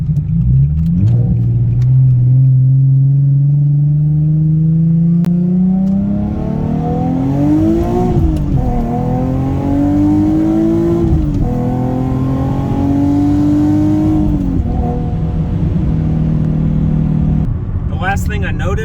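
A Nissan 370Z with a short throw shifter accelerates hard through the gears, its engine note climbing in pitch, dropping briefly at each shift and rising again, loud and close throughout.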